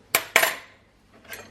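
Gold-finish cutlery, turned silver by the dishwasher, clinks twice sharply in quick succession, then gives a softer metallic rattle a moment later, close by with no talking.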